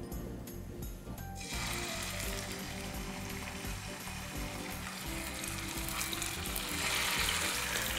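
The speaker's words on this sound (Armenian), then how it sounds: "Ռուլետները փաթաթելուց հետո տապակելու ենք, իսկ տապակելու ենք տաք բուսայուղի մեջ։" Chicken rolls fry in hot vegetable oil with a steady close crackle and sizzle that carries on throughout and swells slightly toward the end, no voices over it.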